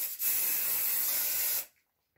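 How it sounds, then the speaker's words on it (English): A steady hairspray aerosol hisses close by for about a second and a half, then cuts off abruptly into silence. "So I'm going to spray it"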